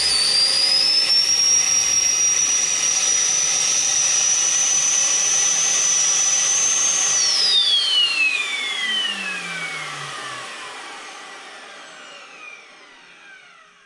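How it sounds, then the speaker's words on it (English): A vacuum forming machine's fan runs while a nightguard is formed, a loud high-pitched whirring whine that holds steady and then spins down, fading over several seconds as it stops. "you turn on the fan to vacuum"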